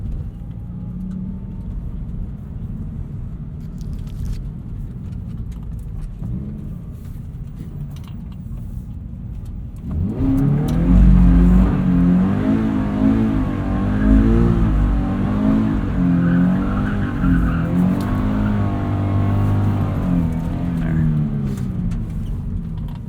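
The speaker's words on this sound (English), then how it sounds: "Maybe we can just briefly warm up the tires here too." A performance car does a burnout to warm its tires. A quiet idle gives way to a loud, rising engine roar with wavering revs that holds for several seconds, close by.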